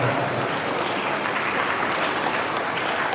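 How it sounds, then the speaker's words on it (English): A full hall of traditional rulers and guests applauds continuously at an Akwa Ibom council session, the thick, even clapping holding at constant loudness throughout with no break. "Please give him a round of applause."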